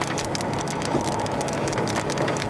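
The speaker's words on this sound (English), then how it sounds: "How big is this hail?" Hail rattles down during a storm chase, a dense, continuous patter of hard impacts spread evenly through the moment with no voices.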